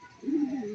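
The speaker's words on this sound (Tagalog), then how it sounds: "Yung iba kong ibon ito, dumapo na." A single soft, low coo from a pigeon, brief and close, with no other sounds around it.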